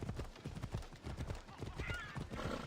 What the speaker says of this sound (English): I'm not taking some pansy horse. I'm taking my alicorn.